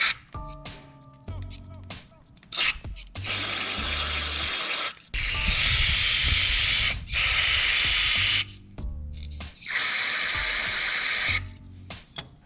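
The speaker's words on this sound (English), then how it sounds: "we'll run some carb spray through this." Carburetor cleaner spray hisses loudly in several long bursts, close up, into a mini bike's carburetor passages and main jet, separated by short pauses with faint voices and handling noises.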